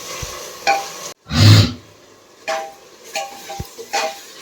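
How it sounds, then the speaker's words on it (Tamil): Onions frying in a pan are stirred with a spoon, giving a few loud scraping strokes and bursts of sizzle close by, with scattered kitchen clatter and no talk. "அப்புறம் எல்லாத்தையும் நல்லா கலக்குன்னு கலக்கிக்கணும்."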